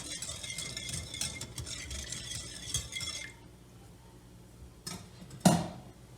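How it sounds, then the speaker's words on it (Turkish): A spoon stirs a mixture of vegetable oil and salt for pide dough in a bowl, with scraping and light clinks for about three seconds, then quiet with a couple of sharp knocks near the end. "bir çay bardağı sıvı yağıma bir yemek kaşığı tuzumu da ekleyip yine şöyle bir karıştıracağım"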